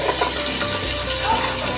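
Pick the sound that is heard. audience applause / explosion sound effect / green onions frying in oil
green onions frying in oil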